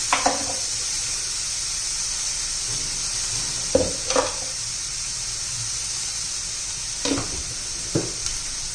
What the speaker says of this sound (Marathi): चांगला असं परतून घेऊया